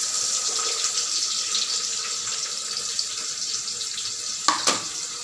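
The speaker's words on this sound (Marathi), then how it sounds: "थोडासा कांदा परतून घेऊ आपण" Finely chopped onion sautés with cumin in a pan for a village-style brinjal dish: a constant close sizzling hiss, then a couple of sharp utensil knocks near the end.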